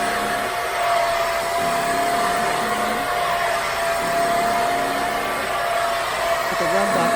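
A loud, steady mechanical whirr with a constant high whine, like a carpet cleaning machine running close by, continuous throughout without pauses.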